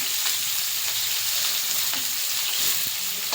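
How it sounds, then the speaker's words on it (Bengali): Chopped onions sizzle and spit in hot oil in a pan, a dense, bright crackling hiss that stays steady and close, with occasional stirring taps. "গরম হয়ে গেছে, কুচানো পেঁয়াজ দিয়ে দেবো।"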